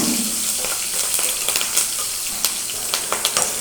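Cumin, dried red chillies, curry leaves and green chillies frying in hot oil for jeera rice, a loud continuous sizzle with crackling pops and a few stirring clicks, heard close.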